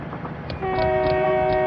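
A Class 58 locomotive horn in a train simulator game sounds loudly and steadily after a short moment of rumbling train noise, holding a sustained tone.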